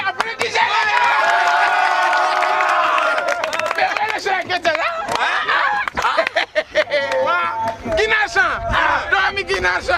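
Theatre audience at a Senegalese play shouting and cheering loudly, with chanting voices and scattered clapping, close and dense, dropping into irregular bursts of whoops and claps toward the end.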